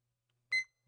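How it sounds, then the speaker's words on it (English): A single short electronic beep from a small timer, a brief harmonic burst alone in quiet surroundings. "So now, hear the irritating beeping sound."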